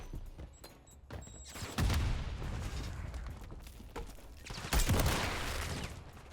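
A Semtex grenade and gunfire in a first-person shooter game: sharp shots and bursts of fire lead into two loud, booming detonations, each trailing off into rumbling, crackling noise.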